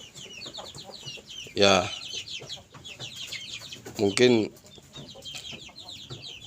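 Chickens in a backyard coop on a small home poultry farm, with two loud, brief squawking bursts standing out from low background noise while someone talks throughout.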